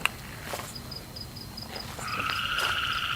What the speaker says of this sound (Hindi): ये मेंढक क्यों?